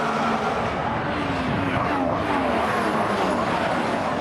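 Formula 1 cars from the 2014 season race flat out, Ferraris running head-to-head, their engines a continuous high-pitched roar with a rising and falling whine as the cars pass.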